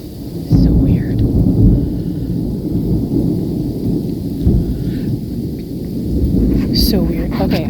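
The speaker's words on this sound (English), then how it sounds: "Listen to that thunder though." Heavy thunder from a February thunderstorm rumbles on and on, loud and close, with rain behind it; a person speaks briefly over the storm.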